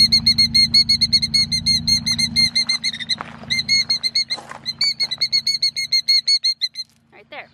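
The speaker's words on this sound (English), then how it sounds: "Trying to get into the car and there's a killdeer" A killdeer calls near its nest in a driveway, giving a long series of shrill, rapid, repeated cries close by, with a low hum underneath for the first few seconds.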